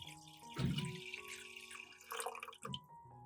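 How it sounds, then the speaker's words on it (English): Water splashes and trickles briefly into a vessel, with a burst of pouring followed by a smaller second splash; fairly quiet and close. "Pour the mixed water into the pot."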